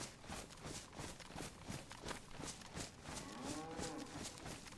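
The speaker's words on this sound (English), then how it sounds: "Ooh, I hear a cow." A cow gives a faint, distant moo partway through, heard over steady rhythmic footsteps on the ground.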